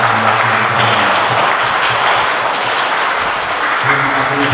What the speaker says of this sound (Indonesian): Kita beri aplaus untuk Ibu kita yang akan mewakili.